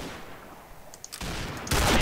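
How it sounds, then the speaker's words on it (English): Two loud, sharp rifle shots from a Ruger Gunsite Scout Rifle in the shooter game Combat Arms, a second or so apart, each followed by lingering noise, with faint game ambience between them. "Of course I would miss both shots, because I just suck with the Ruger"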